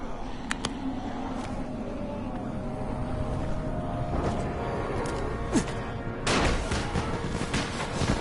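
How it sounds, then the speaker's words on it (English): Firecrackers exploding in a zombie video game, a run of sharp cracks and pops scattered over a rumbling engine-like background, loudest near the end. "You still have some firecrackers, don't you? Just throw some into the crowd."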